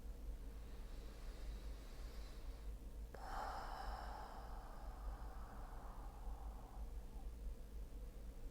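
Several slow, deep breaths drawn and released during a guided meditation, with a long airy inhale-exhale swell mid-clip over a steady low background hum; no talking.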